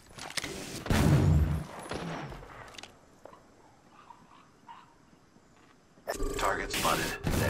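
Gunfire in Apex Legends: a loud, close burst of rapid shots at the start, then a quieter stretch with distant pops, and another heavy volley at the end, mixed with voices talking.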